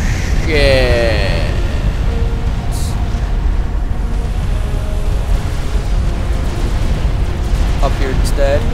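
Missile explosions in the strategy video game Supreme Commander, UEF campaign: a continuous, loud rumbling eruption of blasts with a few whooshing tones, under speech.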